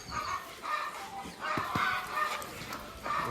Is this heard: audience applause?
no